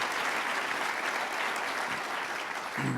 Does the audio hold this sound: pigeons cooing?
no